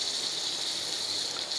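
Butter simmering in a pan as it turns into ghee gives a steady, close bubbling hiss, continuous and even throughout with no voices.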